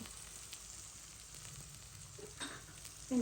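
Onions frying in a pan for a home-cooked Bengali meal, a faint, steady sizzle with a few soft stirring scrapes near the end.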